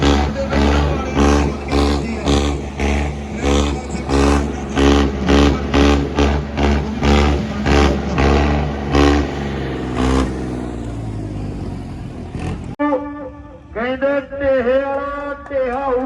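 A heavy Ford tractor engine revs hard in repeated pulsing bursts at a timed tractor competition in Nurmahal, roaring and chugging loudly, then drops away as a voice talks over the end.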